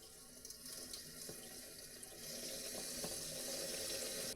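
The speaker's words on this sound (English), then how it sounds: "Let's see how much water is in there." Water runs steadily from a kitchen sink tap on mains pressure, a continuous broadband rush that grows slightly louder and fuller after a couple of seconds, heard alone without speech.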